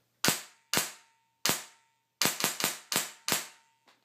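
A Polar Star custom airsoft gun fires on semi-auto with the magazine removed: eight sharp, loud pneumatic cracks, spaced irregularly, the later shots in a quicker cluster, each decaying quickly into quiet.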